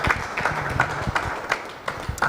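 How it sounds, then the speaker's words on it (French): Audience applause rises briefly, a short burst of scattered hand clapping with uneven beats, moderately loud and fairly close. "On va l'applaudir encore une fois du plus."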